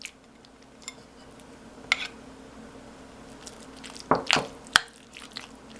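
Drained minced clams drop into smooth cream cheese dip in a bowl, giving a few soft wet squishes and plops, one near 2 seconds and a cluster with a sharp click around 4 to 5 seconds, close and quiet with no talking.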